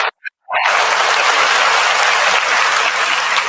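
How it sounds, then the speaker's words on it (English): Studio audience at an indie comedy show bursts into loud, sustained applause after a short pause, a dense steady wash of clapping that holds for about three seconds. "Keep the applause going."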